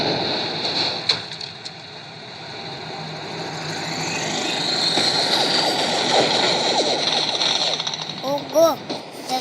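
Helicopter in the tank-versus-helicopter mobile game Hills of Steel, a continuous rattling engine drone that swells slightly toward the middle, with brief voice-like chirps near the end.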